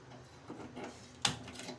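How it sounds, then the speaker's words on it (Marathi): A gas stove igniter gives a single sharp click near a pressure cooker in a kitchen, brief and close against a faint room background. "आता मी गॅस लावत आहे"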